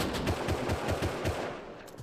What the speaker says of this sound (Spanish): Se mueve, me está disparando a mí.